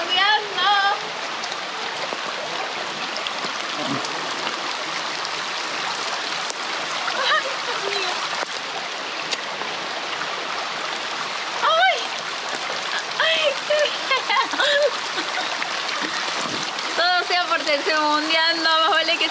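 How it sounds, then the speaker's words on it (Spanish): Steady rain hisses and patters without a break while people walk along a trail near El Bolsón in Argentine Patagonia, with voices speaking intermittently over the wet, continuous wash of sound. "Caminar con lluvia es mucho más fresquito, mucho más liviano."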